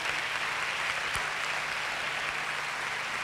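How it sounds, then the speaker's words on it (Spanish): A theatre audience at a rock choir concert in Alcorcón applauds the town council, a dense continuous wash of clapping at even loudness with no pauses. "Así que un aplauso para el Ayuntamiento."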